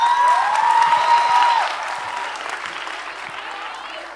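Audience at a Dev Anand quiz event in Jaipur breaking into applause, a dense burst of clapping that peaks early and gradually thins, with a whistle near the start.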